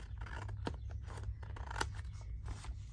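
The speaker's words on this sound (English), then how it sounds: "So I'm just going to cut it off and then fix it up." Scissors snip through paper while trimming a file folder, giving a series of quiet, crisp, separate cuts in a close, otherwise quiet room.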